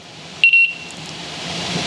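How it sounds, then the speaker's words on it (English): A kitchen timer going off during apple pie filling canning gives a short, shrill electronic beep, loud and close, lasting a fraction of a second before fading into quiet kitchen background noise. "The timer is going off."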